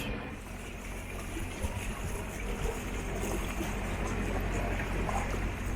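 A steady low canal boat engine rumble drones throughout, close and constant, with wind and water noise over it and no voices.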